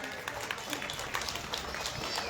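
Audience applause at a gathering honoring a spiritual teacher, steady dense clapping at moderate loudness throughout, with a murmur of crowd noise beneath.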